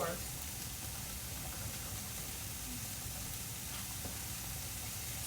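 Hamburger meat frying in a pan for baked spaghetti gives a steady, dense sizzle and hiss that continues evenly throughout, close and moderately loud, with faint stirring noises and no clear talking over it.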